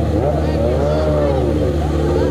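Honda CB650F Hornet motorcycle engine revving hard during a wheelie, a loud sustained drone with pitch rising and falling, close by amid background voices.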